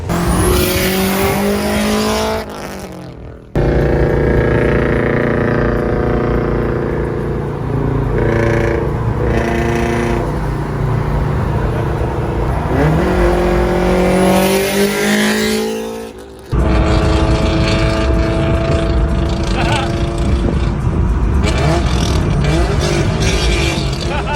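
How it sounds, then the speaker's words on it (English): A very loud Subaru WRX STI with a catless Tomei exhaust revs and roars up close, with hard accelerations and shifts, briefly cutting out twice before blasting again. "Phil installed the Tomei exhaust. Well, his setup is just unbearably loud."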